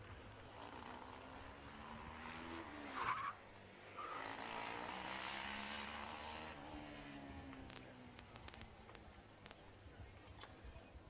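A Formula SAE race car roars past at speed, its engine pitch swooping down as it goes by, with steady crowd and track noise throughout.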